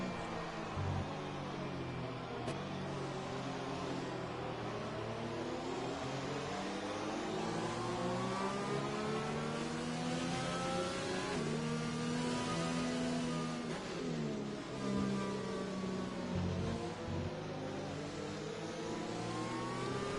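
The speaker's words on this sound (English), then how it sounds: "The safety car's still out then for another lap." Race cars in the F1 2020 video game at a Canada circuit, running behind the safety car, give a steady, continuous engine drone with shifting revs for the full stretch. No one speaks.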